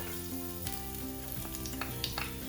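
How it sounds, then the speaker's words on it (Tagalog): Garlic sizzling in hot cooking oil in a pan for ginisang upo with sardines, a steady crackling fry with light stirring clinks, close and moderately loud. "Pag mainit na ang cooking oil, pwede na natin i-add yung ating garlic."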